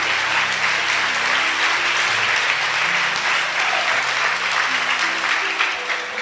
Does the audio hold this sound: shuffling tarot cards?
no